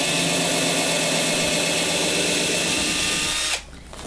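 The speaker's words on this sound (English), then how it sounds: "And now I'm going to be drilling" A power drill runs loud and steady for about three and a half seconds, whining as it bores through a box, then stops abruptly.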